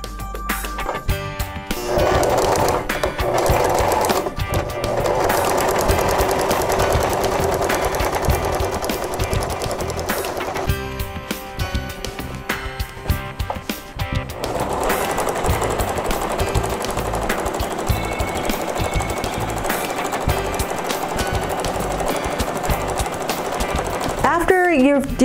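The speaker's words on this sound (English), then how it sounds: "make sure that when you start to sew, the first couple stitches you reverse and then go forward so the stitch sticks to the mat" A sewing machine stitches a blanket, its steady rapid mechanical chatter running almost continuously at close range with a brief slowdown midway, while a voice talks quietly over it.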